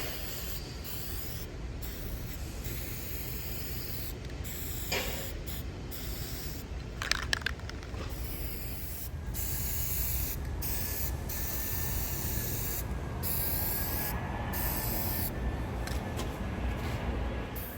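An aerosol can sprays paint onto a Mercedes Sprinter emblem in repeated short bursts, followed by a longer steady hiss, close and fairly quiet.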